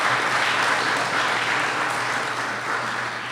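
Audience applause at a National Parents Day awards ceremony, a steady wash of many hands clapping that holds evenly throughout, dense and sustained with no voices breaking through.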